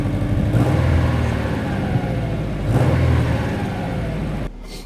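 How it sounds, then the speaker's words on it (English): A cold 2005 Subaru Impreza WRX Hawkeye engine gives a couple of brief, moderate revs with a burbling, throaty idle between them, close and loud, then drops off abruptly. "Don't want to rev it too much, you know, while it's still cold, but I'll just give it a small one."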